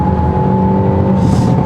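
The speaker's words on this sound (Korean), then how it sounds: "이 배기에서 빠바방 하고 하는 반응 같은 것들도 사뭇 달라지는데요" The engine of a 2024 Hyundai Avante N with an 8-speed DCT revs hard during a kickdown on the road. A loud, steady drone with a sustained tonal hum stays close inside the cabin.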